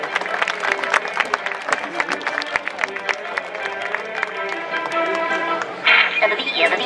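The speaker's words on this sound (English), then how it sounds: "A round of applause for the ladies." A rodeo crowd at an evening breakaway roping event applauds, crisp scattered claps near and far over crowd murmur and a faint announcer voice.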